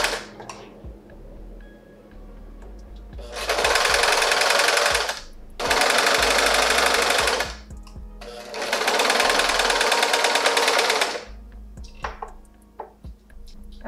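A sewing machine stitching a fitted cowl neck dress runs in three steady, buzzing bursts of a few seconds each, separated by short pauses with soft handling clicks. No one speaks.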